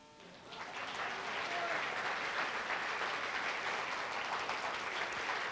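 Audience applause after a stage performance of Salomay swells in quickly and settles into a dense, even patter of many hands, fairly distant and uninterrupted.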